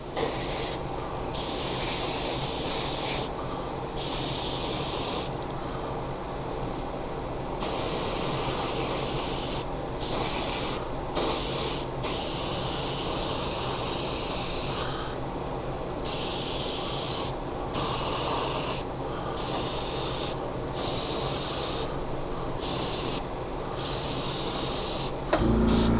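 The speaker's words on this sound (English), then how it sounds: "what I'm doing here is I'm spraying it from about here up to around the back here" Steady spray-can hissing close by as paint is sprayed onto a 1/25 scale Humvee model, in long continuous bursts broken by brief pauses, with no voices.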